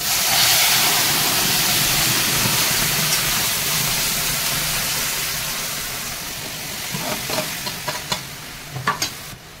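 Jamun paste hits a hot pan of oil tempered with dried chillies, bay leaves, five-spice and cardamom, setting off a loud, continuous sizzle that eases slightly before a few clinks of stirring near the end.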